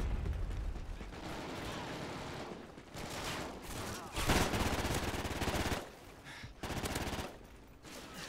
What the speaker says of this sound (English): It looks like a submachine gun.